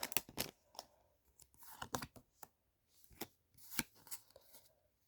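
A Pokémon card booster pack being torn open and the cards handled, with a close series of sharp tearing and crinkling bursts and quick card flicks in an uneven rhythm.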